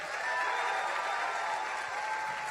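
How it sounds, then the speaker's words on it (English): Steady applause from a crowd at a political rally in Atlanta, clapping honoring military members in the audience, continuous and fairly distant throughout the short stretch. "Let's give another round of applause for the military in the room."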